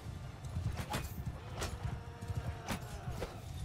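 Horses clip-clop in the medieval battle game Mount & Blade II: Bannerlord, a busy irregular patter of hoofbeats mixed with sharp clacks, moderately loud with no talk.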